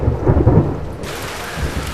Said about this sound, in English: it's the Beijing summer rain, which most definitely is setting the mood